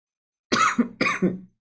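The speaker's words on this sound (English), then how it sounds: "every time I talk, I want to cough today" Two harsh coughs in quick succession, close and fairly loud, with silence before them.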